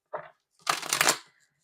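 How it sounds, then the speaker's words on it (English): A deck of tarot cards being shuffled up close: a short riffle, a brief pause, then a longer, louder riffle that fades out. "one more shuffle, then we'll cut up the deck"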